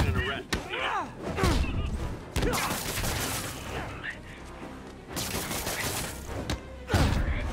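Enemy gunfire in the Spider-Man video game comes in sharp, repeated bursts and thuds, mixed with game voices and other action.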